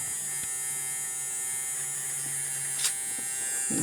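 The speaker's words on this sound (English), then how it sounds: "that motor's working now" The small electric motor of a refurbished Supersonic Tobor toy robot runs with a steady, close buzzing whine and faint hum, holding constant apart from a brief tick near the end.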